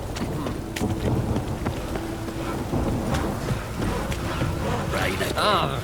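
Rain falls with rumbling thunder during a storm in The Witcher video game, a steady patter beneath deep rolls, while character voices speak over the weather throughout.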